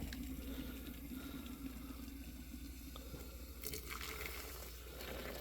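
Hot coffee pours in a steady, continuous stream, a soft splashing trickle that carries on without a break before easing off near the end.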